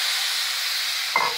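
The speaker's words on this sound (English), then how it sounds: "I'm gonna deglaze my pan." A hot pan used for sautéed pork medallions hisses steadily as it is deglazed with orange liqueur, a broad, even sizzle, close and unbroken, with a brief soft clank near the end.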